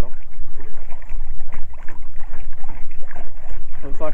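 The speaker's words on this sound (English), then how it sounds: "Got a long ways to paddle." A small boat is paddled across water on Georgia public land during a deer hunt. Close, rhythmic paddle strokes and water splashes come through steady wind buffeting on the microphone.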